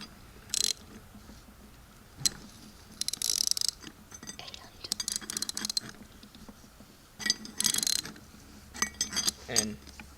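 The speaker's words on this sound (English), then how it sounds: "now we take our 13mm socket and 13/16 wrench" Mechanical clicks and ratcheting from a 13mm socket and 13/16 wrench tightening the power steering pump pulley on a 2003 Pontiac 3.4L V6 come in scattered bursts, near and fairly quiet, with some soft metallic clinks between them.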